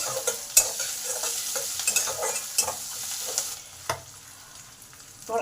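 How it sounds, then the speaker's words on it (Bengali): Curry leaves and chana dal fry in a pan with a bright continuous sizzle, punctuated by several sharp scraping stir strokes close by. "কারি পাতা ছোলার ডাল এগুলোকে বেশ কিছুক্ষণ ভেজে নেব"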